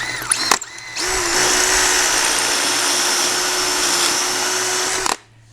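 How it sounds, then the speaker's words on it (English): After a couple of brief clicks, a power drill fitted with a depth-stop bit whirs loudly and steadily for about four seconds while drilling a homemade motorcycle wheel balancer, then stops abruptly. "You get a special drill bit which has got an adjustable depth stop on it, and you just drill"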